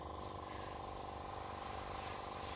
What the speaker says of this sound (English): This compressor's terrible.